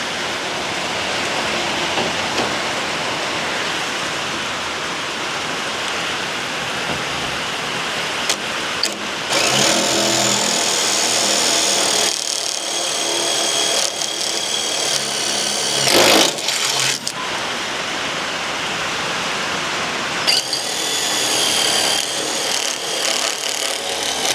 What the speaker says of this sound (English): I got my drill because I'm about to poke some holes in this hood